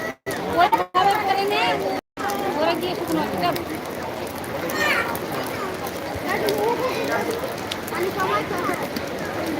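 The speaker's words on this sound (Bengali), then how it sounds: "বৃষ্টি একটু কমলে বেরিয়ে যাব কিন্তু সেরকম কমার কোনো নামগন্ধ দেখছি না ভালোই জোরে পড়ছে" Heavy rain pours down at Belur Math during the Ashtami day of Durga Puja, a dense, steady hiss that lasts throughout with people talking over it.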